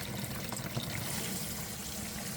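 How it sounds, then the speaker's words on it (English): Water being poured steadily into a bucket holding dry clay for reclaiming, a continuous splashing rush heard close and fairly soft, with no speech. "you're going to put a whole bunch of water in the bucket"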